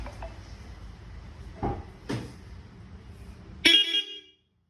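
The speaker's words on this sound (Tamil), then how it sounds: "ஓகே, அந்த ஹாரன் மட்டும் அடிச்சு காட்டுறேன்" A short, bright mini horn toot from a Maruti Eeco sounds once near the end, preceded by a few soft clunks and thumps in a quiet setting.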